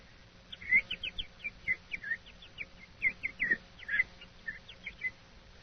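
A person whistles in imitation of little birds: a string of short, high, twittering chirps in irregular bursts, fairly soft against a quiet background.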